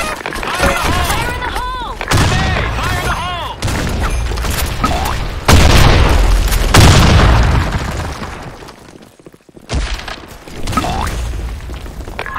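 Grenade blasts in the Blackshot shooter game land in a loud series of booms mixed with bursts of gunfire, while voices call out between the explosions.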